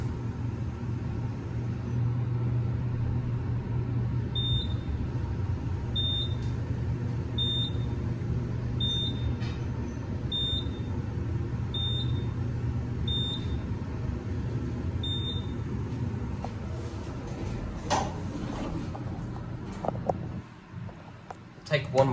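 An elevator at the Embassy Suites BNA descends with a steady low rumbling hum, while a series of short, evenly spaced beeps marks the passing floors, followed by clattering and movement near the end.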